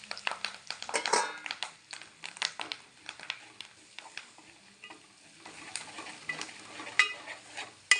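Curry leaves and spices sauté in a pan for pav bhaji, with a steady sizzle broken by frequent scraping and tapping stirs, close and fairly quiet, with no talk.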